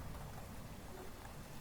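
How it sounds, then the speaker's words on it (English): Steady rain falls in the video game Murder Most Misfortunate, outside a manor house, a dense even hiss of drops with a low rumbling undertone, continuous and fairly quiet with no voices. "It's raining."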